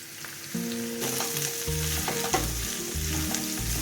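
Spiced filling of green coriander, ginger, green chilli, onion and salt stirred and frying in a pan for stuffed bread, a steady close sizzle with scraping spoon strokes and clinks throughout, no talk.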